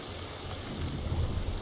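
Steady rain in the video game Ancestors: The Humankind Odyssey, a dense, continuous hiss of falling water with a low rumbling undertone that swells slightly toward the end, heard alone without voices.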